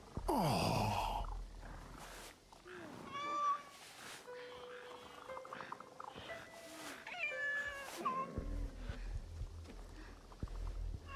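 A cat in the Assassin's Creed Shadows video game gives a series of drawn-out, wavering meows, some rising and some falling, over quiet ambient game sound.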